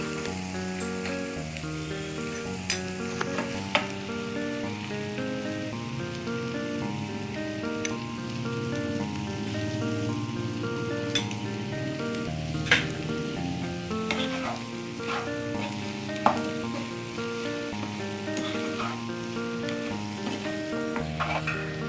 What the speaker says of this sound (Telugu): ఇవంతా ఆయిల్లో బాగా ఉడికిపోవాలన్నమాట ఇవి బ్రింజాల్స్ అనేవి కొంచెం సాల్ట్ కూడా వేసుకున్నాము